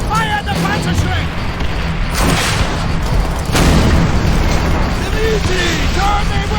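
A German Panzerschreck rocket launcher fires and a heavy explosion follows in the Call of Duty: World at War campaign. Dense battle noise and booms fill the scene, with broad blasts near the two- and three-and-a-half-second marks.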